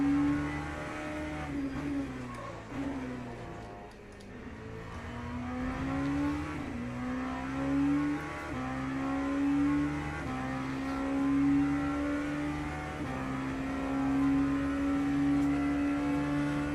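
Ferrari GT3 race car in Le Mans Ultimate at the USA circuit, its engine droning loud and steady with rising and falling revs through gear changes, a brief lift around the middle, continuous throughout with no talk.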